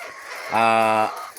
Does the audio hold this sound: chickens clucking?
yes